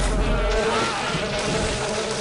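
Robotic dragonflies buzz in the video game Daikatana, a dense insect-like droning hum that holds steady throughout.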